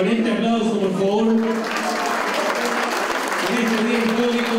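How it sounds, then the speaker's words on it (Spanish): Crowd at a public event for a new metro line applauds steadily throughout, with a voice talking over the clapping in the first part and again near the end. "con este aplauso, por favor,"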